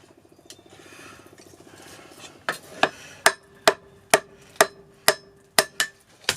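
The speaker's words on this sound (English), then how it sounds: "And I'm using this hammer now." A hammer strikes a knife blade forged from a pickaxe, about a dozen sharp metallic ringing blows at a steady rhythm, close and loud, after a few seconds of quieter scraping.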